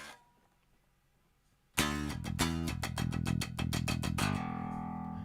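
Clean, unprocessed signal through the BitFuzzer distortion plugin: after near silence, a sudden loud synthetic pattern of rapid rhythmic pulses sets in, then settles into a sustained tone to the end.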